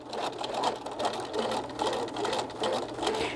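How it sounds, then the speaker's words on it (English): A sewing machine stitching fabric for a Japanese knot bag whirs steadily and rapidly at close range, its motor hum and needle rhythm continuous throughout with no speech. "I'm just basically going to be stitching because I'm going to be cutting out that center."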